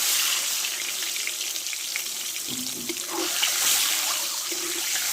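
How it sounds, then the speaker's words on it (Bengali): Four eggs fry in hot oil, seasoned with a pinch of salt and turmeric, and give off a loud, continuous hissing sizzle with brief bubbling pops partway through. "ডিমটা চারিদিকটাই ভালো করে ভেজে নিচ্ছি একটু লালচে করে ভেজে নেবো"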